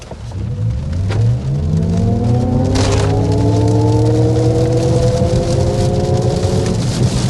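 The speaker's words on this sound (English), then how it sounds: "we need to go ahead and start with a hard acceleration" A 2025 Cadillac OPTIQ revs hard under heavy acceleration to about 60 mph, its pitch climbing steadily through a couple of gear changes, loud and continuous with a steady road roar underneath.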